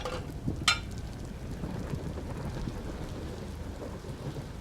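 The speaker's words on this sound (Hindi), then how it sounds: "अम्मी बारिश शुरू हो गई।" Steady rain hisses throughout, with a sharp crack of thunder near the start followed by low rumbling beneath the constant downpour.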